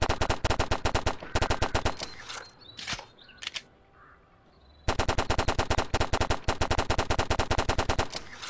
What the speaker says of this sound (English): The first gun is the Uzi.